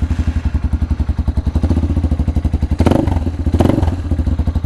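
A Honda Hawk 250 motorcycle engine idles while warming up before an oil change, loud and close with a fast, even pulsing thump, plus a couple of brief clattering knocks near the end.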